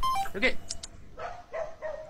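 A dog barks in a few short, yappy bursts from a played video clip, with gaps between barks and light background sound around them.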